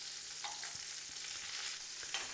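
Asparagus wrapped in ham sizzles steadily in a hot frying pan, a dense close crackle with occasional soft stirring or shifting sounds and no voices.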